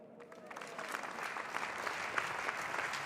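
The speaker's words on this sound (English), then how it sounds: "I'd like to welcome my lovely co-host with a big round of applause." Audience applause rises to welcome the co-host on stage at a FIBA Hall of Fame ceremony in Berlin, a steady wash of clapping that builds and holds with no voices on top.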